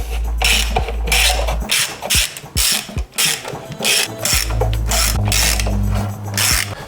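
A ratchet undoing 5 mm ignition coil bolts on a Ford Falcon: rapid, loud metallic clicking in repeated bursts with short pauses between strokes, close up.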